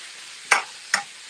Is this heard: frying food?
yes